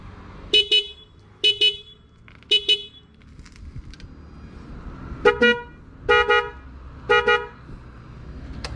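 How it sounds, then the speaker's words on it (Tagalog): A car horn honks in short, two-toned bursts: three quick toots, a pause, then three more, loud and close over a low idling rumble. "Dalawa yung busina niya eh."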